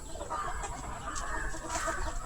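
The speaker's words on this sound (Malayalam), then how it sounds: "ഈ കാണുന്ന നാടൻ കോഴിയുടെ ഒരു ഫാമാണ്." Native chickens cluck softly on a farm, scattered hen calls over a low, steady background hum and a constant faint high tone.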